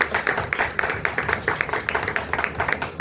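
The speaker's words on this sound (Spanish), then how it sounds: "por quien pido un fuerte aplauso, por favor, Luis Alfonso." Audience applause for author Luis Alfonso Carrera at a book presentation in a bookshop, a steady patter of clapping with sharper individual claps standing out, fairly close and sustained without voices.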